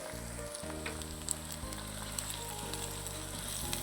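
Garlic, ginger and green chillies sizzle in hot oil for a saag tempering, giving a close, continuous hissing crackle with no voices over it.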